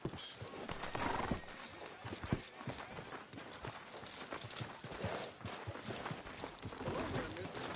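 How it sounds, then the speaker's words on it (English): Horse hooves clip-clop steadily in Red Dead Redemption 2, close and rhythmic, with a whinny and a voice speaking over the steps. "Are you gonna mount that new horse of yours or not?"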